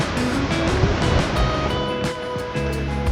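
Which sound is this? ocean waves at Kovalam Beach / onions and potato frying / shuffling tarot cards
ocean waves at Kovalam Beach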